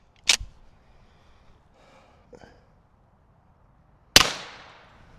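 .45 ACP pistol rounds fired at a Tesla battery pack outdoors give two sharp, loud cracks several seconds apart; the second rings out with a decaying tail, and there is near silence between them.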